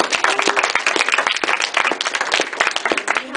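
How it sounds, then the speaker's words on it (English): An audience applauds at a ribbon cutting for a public library makerspace, with dense, close, loud clapping that runs steadily throughout. "So please give them a round of applause."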